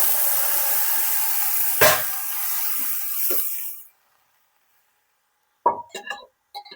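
Cooked beef tipped into a pan of sautéed onions sets off a loud, broad hiss that sputters and fades over a few seconds, followed by silence and then a few sharp clinks and scrapes.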